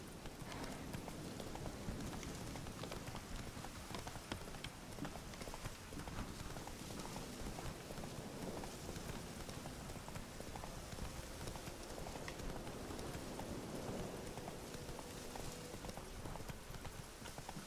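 Horse hooves gallop in The Witcher 3 video game, a fast, continuous clip-clop drumming at close range and moderate volume throughout, with no voices.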